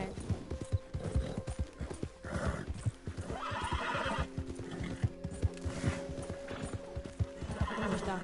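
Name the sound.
horse neighing in a video game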